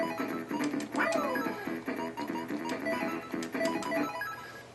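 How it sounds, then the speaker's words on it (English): Shrill electronic game sounds from an emulated game on a Gamebox console, pitched higher than intended, with repeated beeping tones and a sliding chirp over a dense, continuous backdrop. "the sound is much higher pitched than it's supposed to be"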